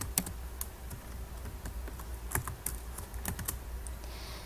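A commit message is typed on a computer keyboard in quick, steady, close keystrokes with no voices, a brisk clicking run lasting a few seconds.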